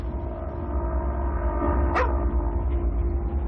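A single short dog yelp rises briefly against a steady, noisy background hum, with no other barks around it, in a film soundtrack.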